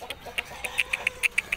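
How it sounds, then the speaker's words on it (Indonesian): Indio Gigante hen clucks in a quick series of short, close, soft pulses with no talk. "Nah ini ayam induk gigante"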